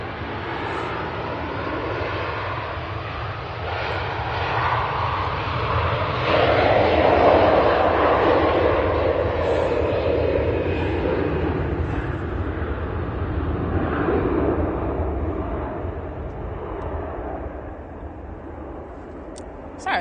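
A Virgin Atlantic Airbus A330 airliner at Manchester Airport, its jet engines making a steady, moderately distant roar that swells in the middle and slowly fades, with a person talking over much of it.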